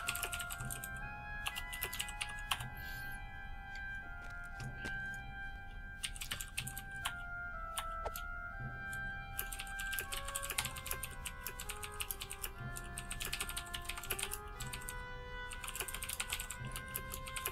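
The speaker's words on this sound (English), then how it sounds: "my typing sucks because I type too quick I slip" Fast typing on a computer keyboard, with dense bursts of clicky keystrokes and brief pauses, ringing out alongside soft game music tones during a LOTRO play session.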